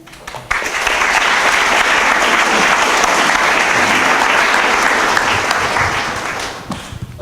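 An academic lecture audience breaks into loud, dense applause after a short research talk on a sit-to-stand experiment, swelling quickly, holding steady for several seconds, then tapering off near the end.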